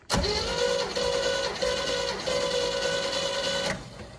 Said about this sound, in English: if we try and start it, crank it over